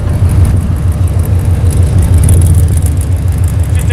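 An LS1 V8 in an AE90 Corolla idles on a short test run, a loud, close, steady low rumble with a slightly uneven throb and no voices over it.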